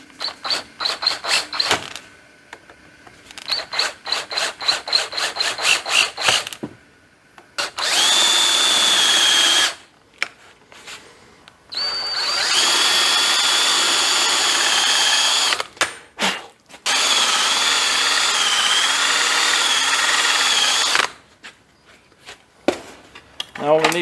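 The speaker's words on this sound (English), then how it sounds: "So I'm gonna try to use a big drill bit and walk it that way." A metal lathe set up as a drill bores with a large drill bit, giving loud sustained grinding and whirring bursts that start and stop several times, separated by pauses, with someone talking between them.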